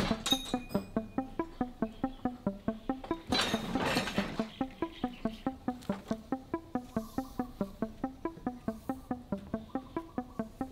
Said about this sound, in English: I'll use the iron worker here to chop it into pieces